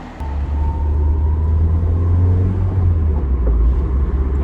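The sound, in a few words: Toyota MR2 car driving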